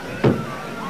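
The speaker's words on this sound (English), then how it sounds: "That was the first shot." Single sharp gunshot from the 1968 Robert F. Kennedy assassination recording in a hotel ballroom, a brief loud crack over a low murmuring room background.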